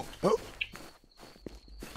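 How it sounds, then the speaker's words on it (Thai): Enemy footsteps in the survival game Infestation, set around buildings in hardcore mode, come as a quick burst of steps near the start, then a few fainter isolated thuds against a quiet background with a faint steady tone. "กูได้ยินเสียงเท้ามันแล้ว"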